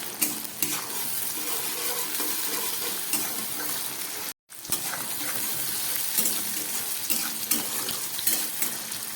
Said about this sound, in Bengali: ছোট একটা টমেটো আমি ভেজে নিচ্ছি